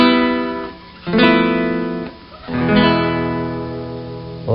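Strummed guitar plays the coda of Malaguena, in four ringing chords, each sustained and decaying before the next, with no voice.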